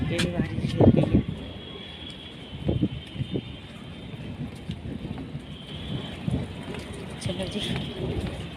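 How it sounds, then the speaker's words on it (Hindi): Heavy rain pours steadily in a broad hiss with a few louder bursts, probably thunder rumbling faintly; someone talks over it at moments. "बारिश और मोटी मोटी गिरने लग गई है।"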